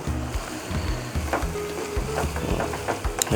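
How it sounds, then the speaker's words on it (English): Beef sauce with fresh tomatoes sizzling in a pan as a spoon stirs through it, a steady frying hiss broken by repeated low scraping strokes. "Add the tomatoes, stir it to make sure that it's mixed well."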